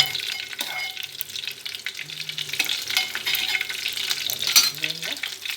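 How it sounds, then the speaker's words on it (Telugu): Dried fish fry lightly in a pan, crackling and sizzling up close with a busy hiss and scattered sharp pops and spatters, plus a few brief clinks of utensils against the pan. "కొంచెం లైట్గానే వేగించాలండి."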